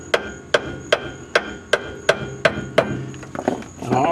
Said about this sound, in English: I'm going to take my trusty hammer here. I'm going to beat this up in here.